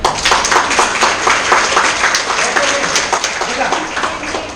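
Dense, loud applause from a group of students in a Grade 10 mathematics study class, continuous broadband clapping lasting several seconds with voices mixed in.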